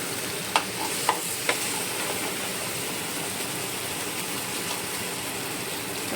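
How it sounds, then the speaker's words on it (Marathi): Reachado-spiced fish frying in a pan in a Goan home kitchen, giving a steady, even sizzle throughout with a few sharp pops near the start. "हांव दोनी आटी बरें फ्राय करून घेता"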